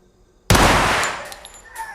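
A single loud, sharp gunshot in an action film bursts out suddenly after a moment of quiet, its harsh blast fading over about a second.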